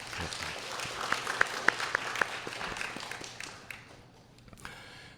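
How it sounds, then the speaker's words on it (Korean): Church congregation applause, soft scattered clapping in a large room with a few sharp nearby taps, thinning out and fading toward the end. "다시 한번 감사의 박수 부탁드리겠습니다."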